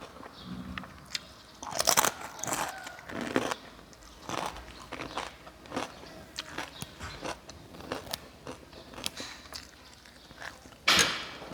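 Crisp fried chicken skin cracklings crunched up close during a Thai rice noodle and fermented fish sauce meal, with repeated sharp snapping bites and steady chewing over several seconds and no talking.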